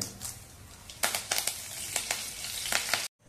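Curry leaves dropped into hot oil with popped mustard seeds and cumin, tempering for a spicy Maharashtrian modak amti; loud steady sizzling with sharp crackling bursts, ending abruptly.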